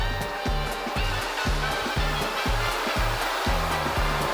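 A robot vacuum runs across carpet with its mop pad lifted, giving a loud, steady whirring rush over a rhythmic low thumping pulse that lasts throughout.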